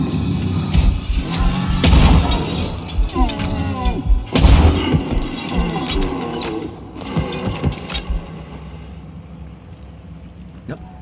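Hand cannon in the horror video game Tormented Souls 2 firing heavy booming shots, followed by clanking reload mechanisms and ratcheting gear noises, with a voice talking over parts of it.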